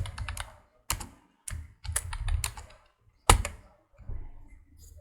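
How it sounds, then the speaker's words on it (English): Computer keyboard typing for chat messages comes in bursts of close, crisp key clicks separated by short pauses, with no talking. "From the next window I type the messages"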